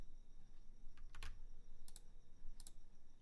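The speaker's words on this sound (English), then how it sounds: "I'm just going to type some random stuff" A handful of quiet key presses on a computer keyboard, sparse and uneven, with a soft low rumble underneath and no voices.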